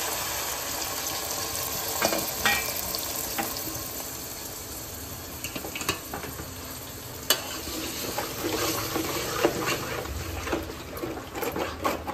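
Boti (tripe) and onions frying in a pan, a steady broadband sizzle with occasional stirring scrapes and small pops, moderately loud and continuous.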